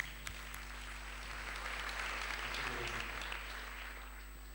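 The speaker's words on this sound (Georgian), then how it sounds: "აპლოდისმენტები თუ შეიძლება" A studio audience at a televised charity telethon breaks into steady applause as singers come on stage. The clapping swells and holds for several seconds at moderate distance over a low background hum.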